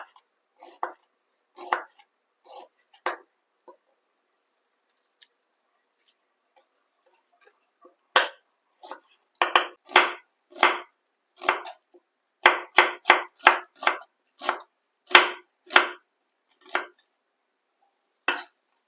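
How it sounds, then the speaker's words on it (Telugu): A knife slices an onion thinly on a board for homemade chicken haleem, giving close, crisp chops. A few come singly and sparsely at first, then a long run of quick, evenly spaced strokes follows. "ఈ ఆనియన్ ని సన్నగా కట్ చేసుకుందాం."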